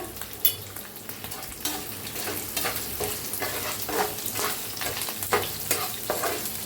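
Green chillies, asafoetida and dried red chilli crackle in hot oil for a South Indian style tempering, a loud, continuous close-up sizzle with rapid spitting pops throughout.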